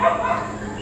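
A dog gives a single short bark or yip, close and brief, then fades into quiet room tone.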